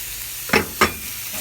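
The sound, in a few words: meat frying in hot oil in a pan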